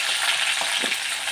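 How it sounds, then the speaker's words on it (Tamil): Onions and tomatoes fry in a pan for a chicken gravy, giving a steady, close, bright sizzle that holds evenly throughout with no talking over it. "வெங்காயம் தக்காளி போட்டு கொஞ்சம் ப்ரௌனாக வந்தோடனே"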